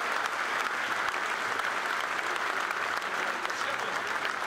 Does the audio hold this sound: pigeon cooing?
no